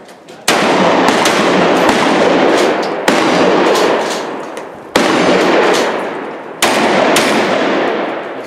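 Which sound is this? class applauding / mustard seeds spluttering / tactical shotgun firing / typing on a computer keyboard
tactical shotgun firing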